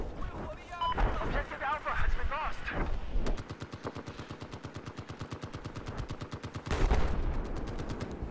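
Battlefield 4 Conquest gunfire: a steady, rapid machine-gun stream of evenly spaced shots, with louder bursts at the start and end and people talking over it.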